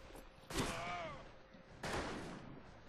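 Two loud gunshots ring out in the western shooter game Fistful of Frags, each a sharp crack with a ringing metallic tail, spaced about a second apart over faint background noise.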